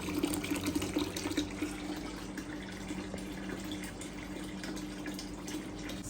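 Water running steadily from a fish tank drain in a flowerhorn aquarium setup, a continuous broadband trickle and rush with a low hum underneath, constant in level with no voices.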